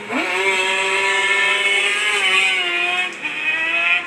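A small two-stroke .21 nitro engine with a tuned pipe runs at high revs, a loud buzzing whine that holds steady and dips briefly before climbing again, with no talk.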